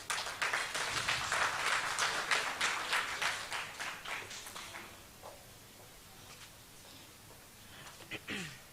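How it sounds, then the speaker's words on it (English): An audience at a Johannesburg youth stakeholder engagement session applauds, a dense burst of clapping that thins out after about four seconds into scattered claps and a quiet room. "can we please have a round of applause for Ms. Carmen Vina?"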